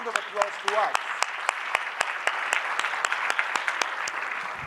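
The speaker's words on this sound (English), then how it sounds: "A round of applause to us." An audience at an evening gathering claps in scattered, sharp individual claps that form a light, moderately loud round of applause, with a brief voice near the start.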